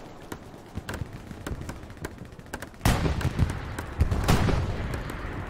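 Rapid exchange of gunfire in a large-scale Utah Beach battle game, with scattered distant shots early and then denser, louder bursts of rifle and machine-gun fire.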